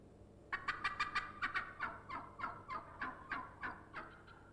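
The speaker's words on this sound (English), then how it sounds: "Now he's gobbling to lure the hens to him." A wild turkey gobbles in a rapid series of sharp, rattling calls repeated a dozen times over a few seconds, moderately close against a quiet outdoor background.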